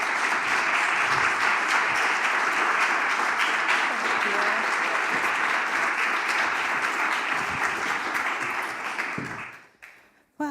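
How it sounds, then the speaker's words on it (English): Sustained audience applause fills a conference room as a speaker is welcomed to the stage at a workplace equity event, steady and dense for about nine seconds before fading out. "I'm going to ask you to welcome her to the stage with a round of applause"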